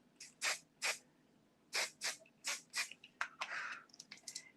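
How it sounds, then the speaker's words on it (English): Kenra finishing hair spray hissing from an aerosol can onto a wig, about a dozen short sharp bursts, the early ones evenly spaced and the later ones quicker and more clustered, all close up with no voices. "A little Kenra finishing spray."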